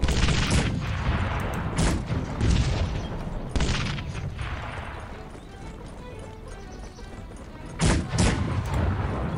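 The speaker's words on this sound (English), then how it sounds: "There'd be cannons in these hills." Booming cannon fire rolls across hills in the strategy game Cossacks 3, several heavy blasts and crackling volleys arriving in bursts at irregular intervals, loud and close.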